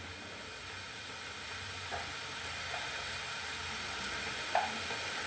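Garlic sizzles in a hot pan for a squid fry, a steady, fairly quiet hiss with a couple of faint pops and crackles and no voices.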